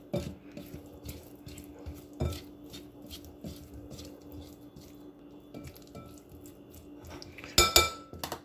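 Shrimp being mixed with onion powder, black pepper and seasonings in a bowl for Chinese shrimp chow fun, giving soft squishy stirring with repeated utensil clinks against the dish and a louder clatter near the end, no talking.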